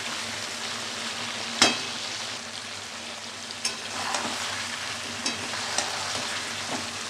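Chicken meat fries in its own released oil in a pan, a steady close sizzle with a few sharp spoon knocks and stirring scrapes.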